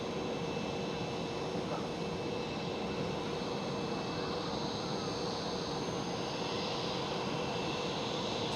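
A Boeing 737-900 in SkyTeam livery passes at Amsterdam Schiphol with a continuous, steady jet roar of even loudness. The roar is broad and unbroken throughout, with a faint high tone above it.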